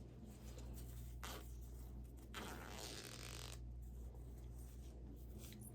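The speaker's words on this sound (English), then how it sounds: "I am going to just undo the zipper really quick." A zipper on a homemade fabric makeup bag is undone in a few short, quiet rasping pulls over a steady low background hum.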